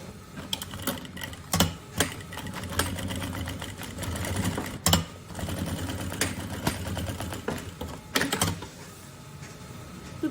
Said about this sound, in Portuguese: agora vamos então costurar a toda a volta